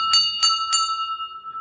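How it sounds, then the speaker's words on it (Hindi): A metal bell at a small home temple, rung during Diwali, strikes three times in quick succession with bright, clear tones, then leaves a long ringing hum that fades slowly. "पहले बजाई हमने घंटी।"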